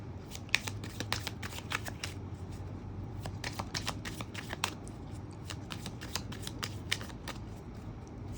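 Tarot cards being shuffled and dropped in a steady run of crisp, papery riffles and flicks, close and fairly quiet over a low steady room hum, with no talking.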